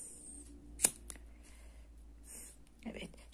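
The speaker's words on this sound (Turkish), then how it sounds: "Ve kesiyorum. Hemen temizliyorum ucunu." Scissors snip the end of a handmade rose with one sharp, brief cut, followed by faint rustling of the flower material in a quiet room, with soft whispered talk nearby.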